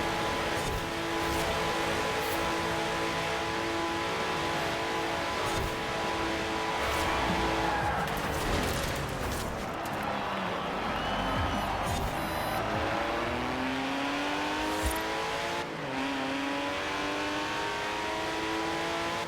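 A Porsche in the racing game Forza Horizon 4 powers through a 90-degree turn. The engine revs and changes pitch continuously, with brief tire squeal as it takes the corner. The sound stays loud and steady throughout.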